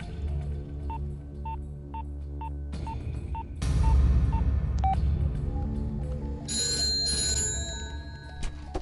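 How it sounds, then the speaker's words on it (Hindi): A telephone rings in a repeated pulsing pattern, then gives way to louder clattering noise and a shrill electronic tone near the end. "सर, घंटी बज रही है, कोई फोन नहीं उठा रहा है"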